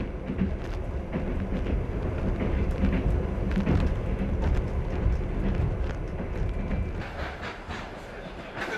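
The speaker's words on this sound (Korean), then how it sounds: "울란우데에서의 즐거움을 뒤로하고 열차는 또 다른 목적지를 향해 달린다." A Trans-Siberian train runs with a steady, loud rolling rumble and rattling clatter, continuous throughout and close, as if heard from on board.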